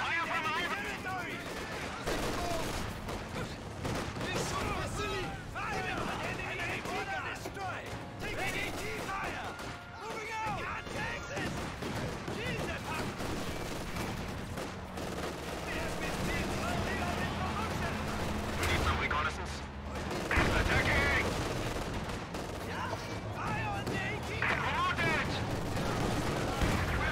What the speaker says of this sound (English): We're taking fire from our territory!